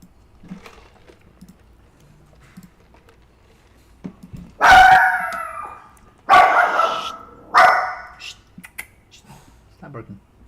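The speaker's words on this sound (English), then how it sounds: "Stop barking." A dog barks three times in loud, close, separate bursts, with some quieter yips and a person speaking around them.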